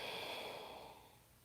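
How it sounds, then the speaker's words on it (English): Slow, steady deep breathing held in a yoga pose, a single long soft airy exhale fading gradually, close and quiet with no talk. "steady, deep breathing"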